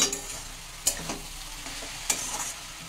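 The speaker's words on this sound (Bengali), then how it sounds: "এবার এটাকে একটু ভালো করে নেড়ে চেড়ে দিচ্ছি।" A spoon stirs giant taro with prawns, turmeric, chilli, salt and cumin in a frying pan, soft sizzling under a few distinct scraping strokes against the pan, nearby and without speech.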